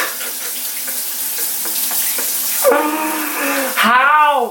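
A shower runs steadily with a constant hiss of spraying water, its tone shifting as the flow is interrupted and splashes change near the end.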